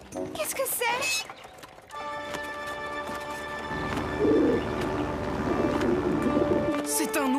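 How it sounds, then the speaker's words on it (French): A cartoon pigeon coos in a French animated story, soft repeated cooing calls that sit among music and character voices. "C'est un oiseau!"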